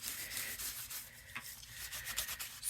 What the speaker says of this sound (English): basically we're just buffing it and bringing out the shine